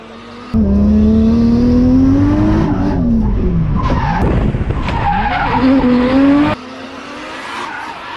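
Nissan S14 powered by a Toyota 1JZ inline-six drifts with its tires skidding, the engine note rising and falling loudly up close over sustained squealing for several seconds.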